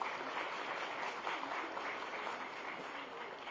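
A round of applause from the audience at a state government MoU signing event with companies, steady, dense clapping that holds evenly throughout with no talk over it.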